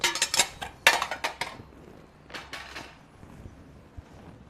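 Small cute plates being picked up and set down, a quick run of light ceramic clinks and clatters close by, then a pause and a few softer knocks.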